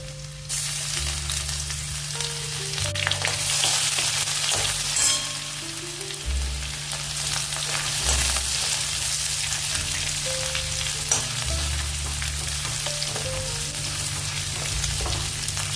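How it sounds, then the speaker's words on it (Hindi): Steady sizzling of ginger garlic paste frying in a hot pan, with occasional scraping and stirring clatters over continuous crackle. "अदरक लहसुन का पेस्ट भी थोड़ा सा हमने भून लिया है।"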